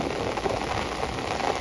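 Heavy rain pours steadily onto flooded rice paddies during transplanting season, a dense, continuous hiss close by with no voices, the downpour strong enough to breach field embankments.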